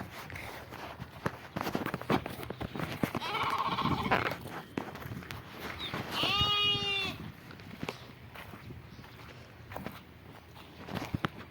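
A flock of sheep bleats close by. Several wavering calls rise over shuffling hooves and rustling, and one long, loud bleat stands out midway.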